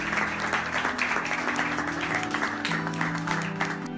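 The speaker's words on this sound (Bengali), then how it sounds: "সবাই জোরে জোরে হাততালি দিতে লাগলো" Cartoon crowd clapping loudly in approval, dense continuous applause over a sustained musical tone throughout.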